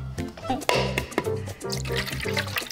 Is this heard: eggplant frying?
no